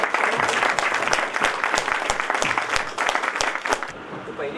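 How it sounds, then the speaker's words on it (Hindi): A workshop audience on health awareness breaks into sustained applause, dense and loud clapping throughout before fading near the end. "तो मैं कहूँगा तालियों की गड़गड़ाहट से उन लोगों का स्वागत जरूर करें।"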